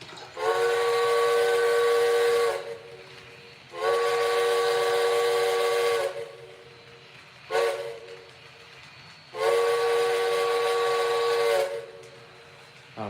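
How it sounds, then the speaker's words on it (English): A loud Nathan K5 multi-note chime train horn sounds in four long blasts, with one short toot before the last, each a rich steady chord. "Yep, another Nathan 5 chime."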